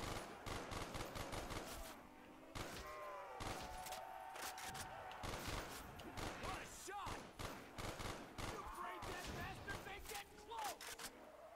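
M14 rifle fire rings out in a Call of Duty custom zombies game: rapid, dense volleys of loud gunshots, nearly continuous, with speech mixed in.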